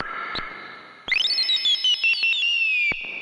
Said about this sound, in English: With the cutoff going through the reverb, that was just too much. Ooh, that's squeaky.